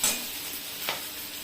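Ginger sizzles softly in a small amount of hot oil for a vegetarian dish, a faint steady hiss with a light stir clink near the middle.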